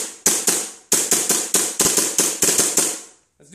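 An airsoft MP7 fires a quick string of sharp, loud cracks, about a dozen shots in uneven rapid bursts over three seconds, close by and with no talk.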